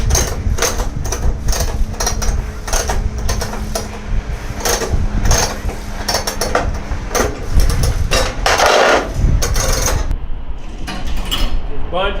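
Chain load binder being ratcheted to tighten coil-securing chain, a series of close, loud metallic clicks and clanks in an uneven rhythm, with some talk mixed in.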